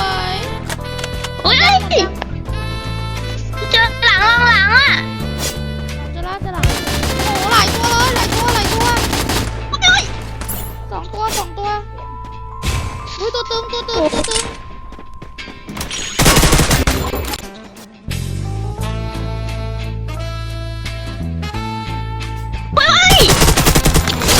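Bursts of rapid video game gunfire in Free Fire, loud and close, alternating with stretches of excited young voices talking and shouting between the volleys.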